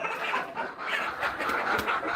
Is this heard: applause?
no